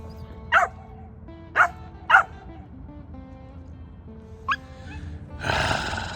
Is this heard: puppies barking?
yes